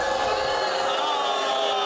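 A crowd boos in a sustained, fairly high-pitched wash of voices, steady and unbroken with no clear individual words.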